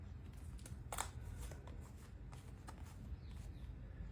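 Tarot cards are shuffled and drawn by hand, with soft papery riffles and brisk flicks in uneven bursts, close and quiet.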